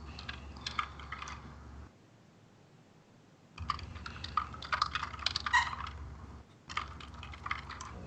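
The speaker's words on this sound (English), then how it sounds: "If you hear typing, you can hear That's me." Light typing on a computer keyboard in bursts of quick, close clicks, pausing for a couple of seconds of near silence before resuming, with no talking over it.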